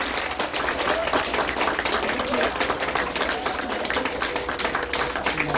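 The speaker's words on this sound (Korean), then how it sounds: "여기 계신 6분의 탈북민들에게 뜨거운 마음으로 환영하며 힘찬 격려의 박수 부탁드립니다" An audience at a ceremony marking North Korean Defectors' Day gives warm, vigorous applause to welcome six defectors, dense continuous clapping with a faint voice mixed in at times.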